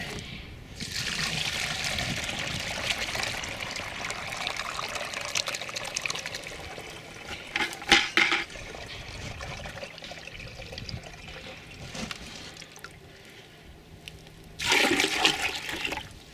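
Liquid compost drench pours and splashes steadily into a bucket, pausing briefly, then resumes with louder gushing bursts toward the end.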